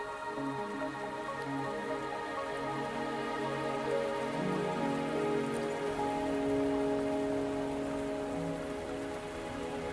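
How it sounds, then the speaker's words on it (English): Steady rain falls throughout a scene in the video game Wuthering Waves, a constant wash of drops pattering on surfaces, with soft tonal music running beneath it and no voices. "Are you trapped here by the rain?"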